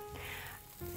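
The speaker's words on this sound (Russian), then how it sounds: "обязательно смажу хлебушек сливочным маслом и выкладываю потом на сковородку" Buttered bread sizzles in a frying pan with a soft, steady crackling hiss, close and quiet, lasting about a second.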